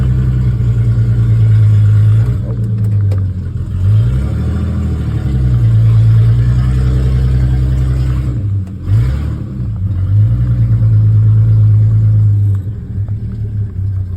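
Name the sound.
1946 Hudson car engine idling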